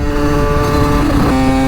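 Small 50cc moped engine running steadily at close range, a buzzy droning hum that rises slightly in pitch toward the end, heard alone without voices.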